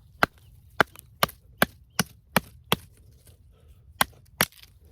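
A BPS Adventurer survival knife chops into a wooden stick with about nine sharp, close woody cracks. They come at an irregular pace with short pauses, and there is no talking.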